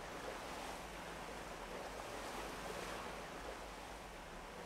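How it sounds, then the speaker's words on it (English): Steady wash of water in a Garry's Mod map, a broad continuous surf-like rush with a windy hiss, moderately loud and unbroken, with no talking. "Yeah, I hear the water."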